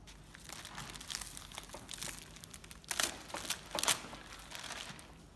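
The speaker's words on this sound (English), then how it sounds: "So just unwrap the rails, get them ready," Plastic packaging crinkles and tears as roof rack rails are unwrapped, with steady close crumpling that swells into louder bursts near the end and no voices over it.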